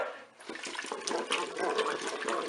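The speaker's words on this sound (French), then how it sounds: "je vais verser mon bouillon. Et je vais verser ma petite boîte de tomates pelées." Broth and a small can of peeled tomatoes poured into a Cookeo multicooker, a steady close liquid splashing and gurgling that runs continuously with no talk.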